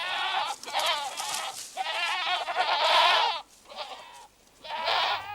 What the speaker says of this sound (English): Goats let loose in the forest are very destructive, browsing just about anything they can reach.